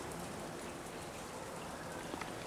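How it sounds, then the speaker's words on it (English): Light monsoon rain patters on a damp patio, a soft continuous hiss of fine drops with occasional distinct taps, faint and steady, with no voices. "You might be able to hear the pitter-patter of the drops."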